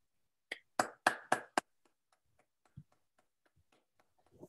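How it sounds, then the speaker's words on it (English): A handful of sharp hand claps and finger snaps from a small online audience come in a quick burst near the start, then fade into faint scattered ticks and taps. "Round of applause. Claps and snaps."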